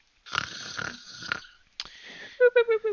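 A voice imitating the snoring of a huge sleeping giant under an upturned pot, with three rasping, wheezy breaths followed by a quick run of four short whistling snorts, close and clear.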